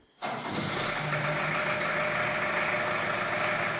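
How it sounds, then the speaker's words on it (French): Engine of a Panhard VBL light armoured military vehicle catching after a brief quiet moment, then settling into a loud, steady, rumbling idle close by. "Un VBL, un véhicule blindé léger de marque Panhard"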